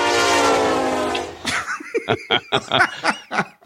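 A person vocally mimics a train, starting with a long sustained horn-like tone and shifting into a rhythmic series of chugging bursts, close and loud.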